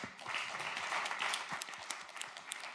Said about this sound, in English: another round of applause for Gabri